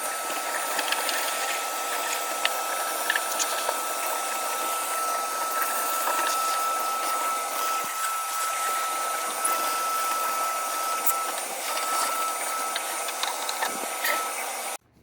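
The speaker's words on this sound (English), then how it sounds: "I'm going to vacuum it up and see what happens." A vacuum cleaner sucks dust out of the inside of a used arcade game cabinet, a steady, loud hissing whoosh that runs unbroken with faint rattles and scrapes as the nozzle moves, then cuts off abruptly at the end.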